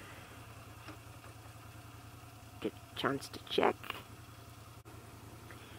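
A Moto Guzzi motorcycle engine idles with a steady, low vibrating hum throughout, while a person talks briefly partway through.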